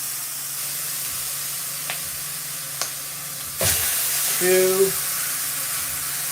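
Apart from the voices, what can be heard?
chicken ribeyes searing in a size 10 skillet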